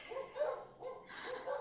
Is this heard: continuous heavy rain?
no